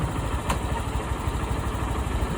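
A motorcycle engine runs at a steady idle while being shifted into first gear, with a dragging clutch that keeps turning the wheel. A continuous close, even rumble is broken by one brief sharp click near the start.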